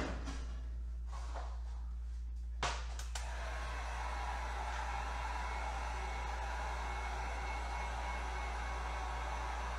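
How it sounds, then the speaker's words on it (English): A heat gun blows steadily over freshly painted metal tree decor as it dries, a constant close whooshing roar after a few brief knocks and clatters at the start. "I have to go ahead and take a heat gun to it because it is not quite dry yet for me"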